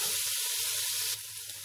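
Minced qeema frying in a pan, a dense steady sizzle heard close up, briefly interrupted by a soft scrape before settling slightly quieter.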